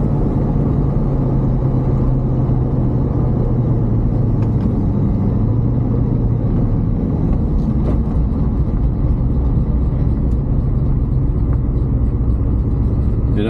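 A Doug Rippie Motorsports LT1 Corvette engine idles in a steady, loud, low rumble that continues without a break, with no voices over it.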